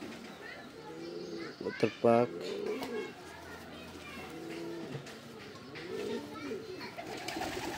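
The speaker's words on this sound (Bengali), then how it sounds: "এই হলো আর একটা কবুতর, মাদি কবুতর।" A female racing-club pigeon coos in low, throaty bursts while someone talks over it, with other birds and children faintly audible in the background.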